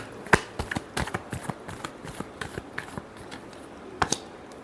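Tarot cards being shuffled by hand, a run of crisp riffling flicks and papery slaps with a couple of sharper snaps, close and fairly quiet with no voices.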